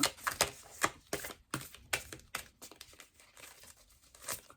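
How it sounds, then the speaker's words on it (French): Thick cards shuffled by hand, a series of quick papery flutters and slaps in uneven bursts, close and fairly soft. "Alors, je vais essayer de mélanger comme ça."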